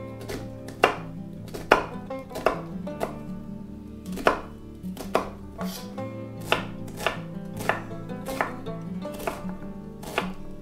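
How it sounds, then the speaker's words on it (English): Garlic chopped with a knife on a board in a home kitchen, a steady run of crisp, close knocks in quick succession, clear and uninterrupted with no talking. "while I chop up the garlic"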